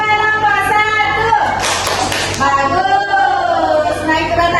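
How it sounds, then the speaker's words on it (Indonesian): A class presentation group gets a short burst of clapping in a school setting, a brief patter of hands that rises and fades mid-clip while an adult voice speaks over it. "Beri tepuk bagus untuk kelompok satu"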